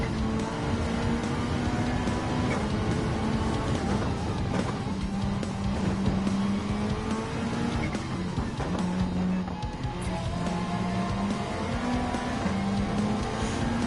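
An Audi R8 LMS Evolution 2019 race car in Gran Turismo 7 at Suzuka Circuit screams at full throttle, its loud engine note holding high and climbing through gear changes, with faint tyre noise and no talk.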